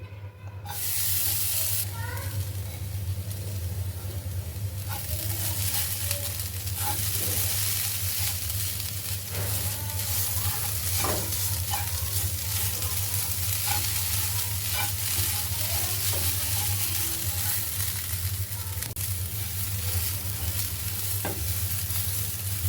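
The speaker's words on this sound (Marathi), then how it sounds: "आपला कांदा लालसर झालेला आहे त्याच पॅनमध्ये आता आपण खोबरं भाजायचं आहे" Coconut roasts in the same pan as browned onions, a loud continuous sizzle and hiss over a low steady hum, with occasional scrapes and taps from stirring.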